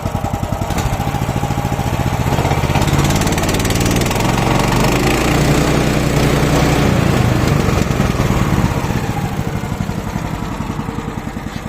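A MAST Gartentechnik GS1500 garden shredder's petrol engine runs loud and close, its rapid, even pulsing thrum rising slightly as the throttle opens, with no talk over it.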